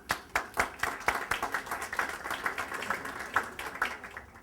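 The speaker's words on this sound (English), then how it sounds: "Please give a round of applause to Steve" Applause from a business summit audience in Brooklyn, many hands clapping together, fairly distant and moderate in level, building quickly and then holding steady.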